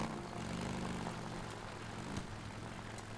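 A motorcycle engine in the video game Days Gone drones steadily at low volume, a continuous humming rumble with no speech.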